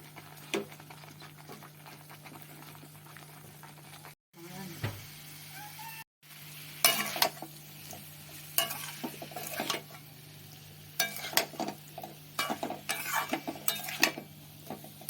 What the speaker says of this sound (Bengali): এবার আমি আলু আর গাজর ভেজে রেখেছিলাম সেগুলো দিয়ে একসাথে আবার কষিয়ে নেব